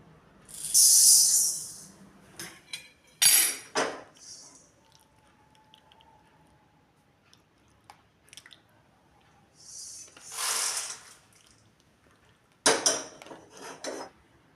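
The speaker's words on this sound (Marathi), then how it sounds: "काळे मिरे घेतलेले आहे, भाजून घेऊ." Whole black peppercorns dry-roasted in a pan for homemade garam masala give off several bursts of rattling and scraping, each followed by a quiet pause, with no talking.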